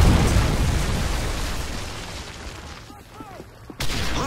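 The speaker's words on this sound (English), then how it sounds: "Friendly Predator missile inbound." A Predator missile strike in Modern Warfare 3 on the Underground map lands as a loud, rumbling explosion that fades slowly, followed by a sharp burst near the end.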